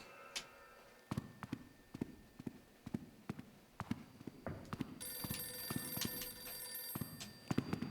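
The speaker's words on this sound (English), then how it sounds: "the phone ringing doesn't exactly help me either" A telephone rings in the video game The Classrooms, a repeated bell-like ring pulsing at a steady rhythm through eerie ambience, moderately faint, joined by a higher tone partway through.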